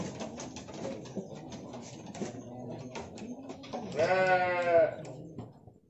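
A Garut goat lets out one loud, wavering bleat near the end, after a stretch of quieter background voices and rustling in a farm setting.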